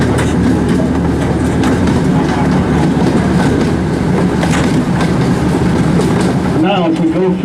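A train rolls through a station at a transportation museum without stopping, giving a loud, continuous rumble with rhythmic clickety-clack from the wheels and a brief squeal near the end.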